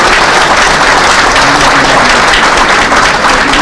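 A crowd of football supporters at a fan gathering applauds loudly and steadily, dense clapping filling the whole stretch without a break.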